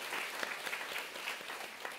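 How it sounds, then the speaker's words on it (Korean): A church congregation applauds during a Sunday worship service, a steady wash of moderately distant clapping from many hands that holds evenly across the whole stretch without voices rising above it. "우리 큰 박수로 환영합니다."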